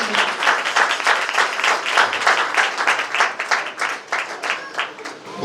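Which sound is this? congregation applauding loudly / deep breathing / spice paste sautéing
congregation applauding loudly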